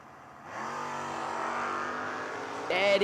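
Two drag race cars, a Malibu and a Mustang, rev their engines at the start line of a footbrake drag racing event, a loud sustained rising engine roar that swells midway and surges sharply near the end.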